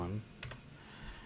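Keys clicking on a computer keyboard while entering values into an Excel spreadsheet, a few quick soft taps after a brief spoken word, quiet and close.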